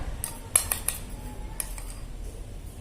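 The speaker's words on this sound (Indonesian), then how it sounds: "sekarang saya mau masukin 5 sampai 6 sendok makan tepung tapioka atau tepung sagu ya" Spoonfuls of tapioca flour are added to a bowl while making chicken and shrimp dim sum. A metal spoon gives a few light clinks and taps against the bowl over faint kitchen background noise.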